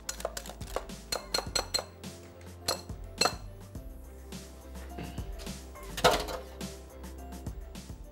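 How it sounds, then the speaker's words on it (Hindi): Stirring with icing sugar in a bowl, heard as repeated clinks and scrapes of utensil against dish in an uneven rhythm, fairly close, with no talking. "खूब अच्छी तरीके से आइसिंग शुगर के साथ इसको मिक्स करेंगे"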